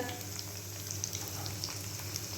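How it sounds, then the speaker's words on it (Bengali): Flour-and-egg fritter batter sizzles steadily in hot oil in a pan, a close, continuous frying hiss with small crackles and no talk. "আগে একটু ভেজে নিই"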